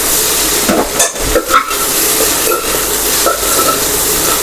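Okra (bhindi) frying in a pan with a steady sizzle and hiss, a spoon stirring through it in a few scraping strokes.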